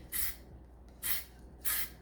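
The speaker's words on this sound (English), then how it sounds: "I tend to spray little light amounts, and then, That way you don't get drips." A spray can releases three short, light bursts, each a close, soft hiss lasting under half a second and evenly spaced, with quiet gaps between and no voices.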